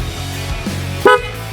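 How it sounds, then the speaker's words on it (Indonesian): A single loud, tonal snail horn blast from a Yamaha Soul GTX 125 motorcycle rings out close by, short and sharp, following a low engine hum. "sudah dibekali dengan klakson keong guys. Seperti ini suaranya, dengerin ya."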